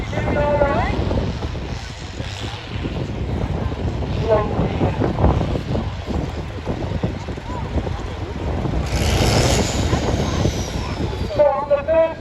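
A tractor's engine labours at a tractor pulling contest at a steam rally, a heavy rumbling roar that swells and surges over the clip, buffeted by strong wind noise on the microphone, with people talking nearby.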